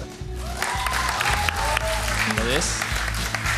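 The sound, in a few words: audience applause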